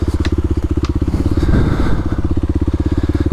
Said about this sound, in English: We're just tractoring along with the KLX.